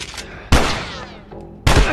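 Two loud, close shotgun blasts from The Last of Us, each with a sharp crack and a long ringing decay, separated by about a second of game ambience.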